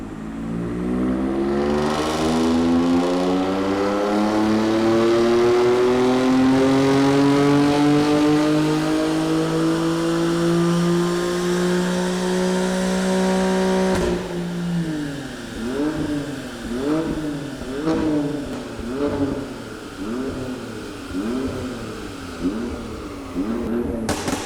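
A modified BMW M3's engine revs loudly and steadily, its pitch climbing for about fourteen seconds, then drops into a series of sharp, rhythmic blips as the throttle is pumped repeatedly, close and without talk.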